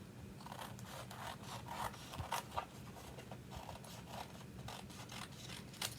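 Scissors trim paper for a handmade pinwheel card, a quiet close series of crisp snipping cuts in a steady rhythm.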